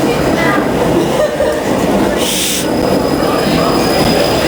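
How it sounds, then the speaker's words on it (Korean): A tram rolls through a main square in Ghent, a loud, steady rumble of wheels on rails with a brief high squeal, close by under ongoing street noise. "트램 조심하십시오."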